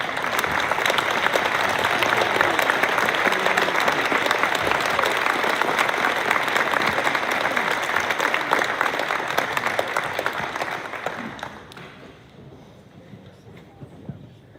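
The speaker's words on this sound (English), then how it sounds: "Let's give them a round of applause, please." Sustained applause from an audience honoring senior parents at a varsity sports award program, a dense wash of many hands clapping for about eleven seconds before fading out.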